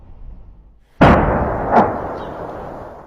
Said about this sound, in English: Shelling from these reclaimed areas is constant, landing in the heart of Khartoum